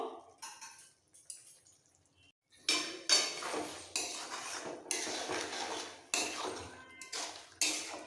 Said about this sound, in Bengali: সামান্য একটু গরম মশলা পাউডার ভালো করে মিক্স করে ফেলবো